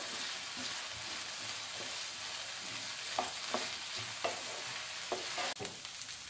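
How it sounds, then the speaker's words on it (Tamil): Capsicum and tomatoes sautéing in a pan for vegetable pasta, a steady close sizzle with occasional sharp clicks and scrapes of a stirring spoon against the metal, no voices. "கேப்சிகமும் தக்காளியும் ஒரு 2-3 நிமிஷத்துக்கு வந்து நல்லா வதங்கணும்."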